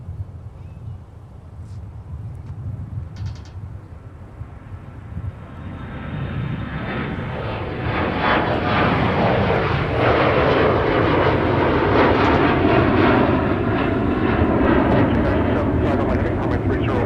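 A jet airliner takes off at Minneapolis–Saint Paul airport. Its engine roar swells from a low rumble into a loud, sustained broadband blast that holds to the end, with a faint voice over it.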